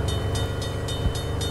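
A train rolls past in the video game Russian Village Simulator 3D, a steady loud rumble with wheels clacking in a regular rhythm, close and continuous with no voices.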